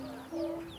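Chickens and chicks make a brief, soft cluck while being fed on a rural homestead, a single short call close by over quiet background.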